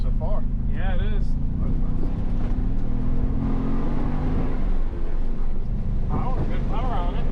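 A Ford Bronco's 4-cylinder engine pulls under acceleration, a loud steady drone rising and falling in pitch from inside the cabin, with wind noise and people talking over it.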